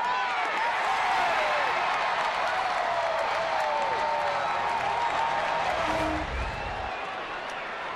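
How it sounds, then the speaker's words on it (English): Ballpark crowd at an Oakland–San Francisco baseball game roars in a sustained, loud wash of cheering and applause as a home run flies, with whistles and shouts on top, easing slightly near the end. "That's the crowd as they're waiting for this thing to land."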